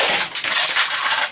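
A cheap, flimsy no-name plastic clock breaks with a loud, sustained crunching crack lasting just over a second, bright and close, with no talking.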